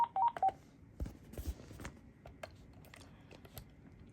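Keypad tones from an AT&T CL83464 cordless phone: a quick burst of several short beeps at the start, followed by faint clicks and handling noises.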